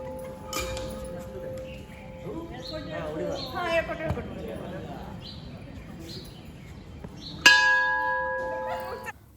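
A temple bell rings in a busy shrine, several bright metallic strikes with a sustained ringing tone, the loudest near the end, while voices and birds are heard in the background.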